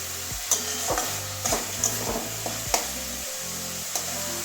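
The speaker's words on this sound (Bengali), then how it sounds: "মশলাটা একটু আর একটু কষাচ্ছি ক্যাপসিকামটা" Capsicum and spices sautéing in a pan, an even sizzle broken by regular scraping strokes of a spoon stirring roughly every half second, close and moderately loud, no talking.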